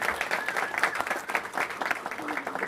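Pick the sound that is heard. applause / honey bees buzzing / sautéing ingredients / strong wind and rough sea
applause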